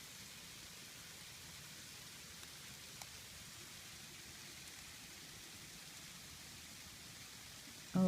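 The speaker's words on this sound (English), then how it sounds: "It's raining ice. Pellets. Like chunks." Ice pellets fall steadily like rain in a winter storm, a dense continuous hiss of small impacts with an occasional louder tick, no talk.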